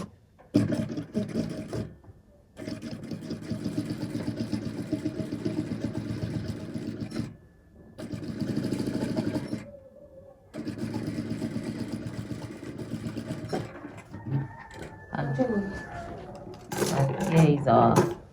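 Domestic sewing machine stitching down a cargo pocket on cargo shorts, a steady mid-pitched motor whir running in long bursts with short pauses between them, and a voice talking over parts of it.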